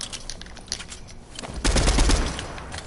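Gunfire in a video game, a rapid burst of automatic shots that swells into a louder, denser fusillade midway, close and punchy with no talk over it.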